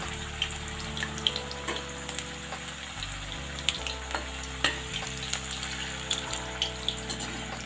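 Wet pointed gourd and potato pieces fry in hot oil, a loud, continuous sizzle peppered with sharp crackles and pops, with a low background hum and no talking.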